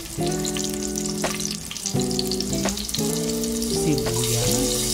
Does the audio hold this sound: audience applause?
no